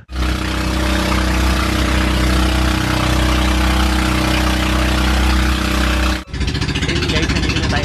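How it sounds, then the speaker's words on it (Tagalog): A motor on a small boat near Balicasag Island, Bohol, drones loudly and steadily up close, then cuts out abruptly near the end and is followed by softer wind and water noise. "Medyo maingay kasi yung motor ng bangka."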